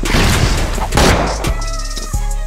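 A heavy blast and rumbling impact from an explosion in a shooter video game, loud and close, with a second thud shortly after and a lingering hum beneath.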